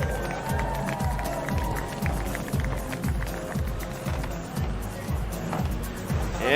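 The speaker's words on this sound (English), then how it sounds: "One more time, hands together for your 3rd place finisher, Amy Fraser." A crowd at a women's ski superpipe final claps and cheers for the third-place finisher during the awards, a steady wash of applause and noise that continues throughout.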